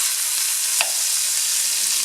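Beef pieces for stew browning in a hot pan, with a steady, close sizzle running throughout and a single faint tap partway through.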